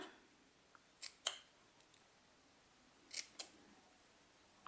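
Scissors trim the edge of a paper banner during a paper-craft die-cutting project: two pairs of sharp, crisp snips close by in an otherwise quiet room, one pair early and another about two seconds later.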